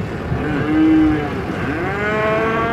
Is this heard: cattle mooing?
yes